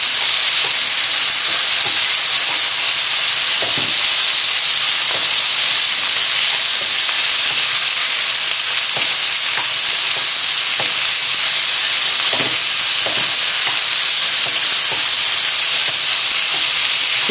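Chicken fries in a pan with a loud, constant sizzle and hiss, while occasional scrapes and knocks mark the pieces being stirred and turned.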